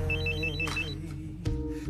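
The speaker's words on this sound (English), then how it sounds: "Come on, answer your phone." A phone rings unanswered, a repeating electronic telephone ring with a steady pulsing pattern over a bed of low music.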